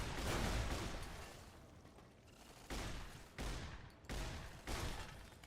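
Automated turret gunfire in Fallout: New Vegas Lonesome Road, a sustained loud burst followed by several short, sharp volleys of shots at a steady rhythm, with no talking.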